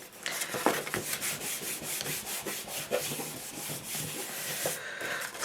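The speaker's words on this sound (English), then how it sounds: "use my fingernail, and kind of further distress the edges" A fingernail scrapes and rubs along the edges of a paper craft card to distress them, making a steady rough, papery scratching close to the microphone in repeated short strokes.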